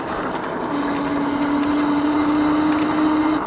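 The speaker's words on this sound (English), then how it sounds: "the motor does make a little bit of a noise here" A steady electric motor whine from an 800W Tracer Loiter electric cruiser bike holds one pitch for several seconds, riding over a constant broadband hum of mechanical and rolling noise.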